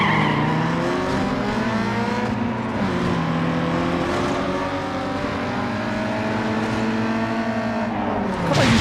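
A Toyota Supra in the Need for Speed Underground 2 racing game, its engine droning loudly and continuously with shifting pitch as tires squeal and skid through a sustained drift, with no talk.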